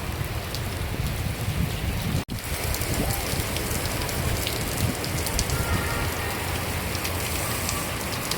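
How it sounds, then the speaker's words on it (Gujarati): Steady heavy rain pours down close by in Surat, a dense continuous patter on surfaces with one brief break in the sound. "વરસાદ છે હારામ હારો મજા આવે એવું છે"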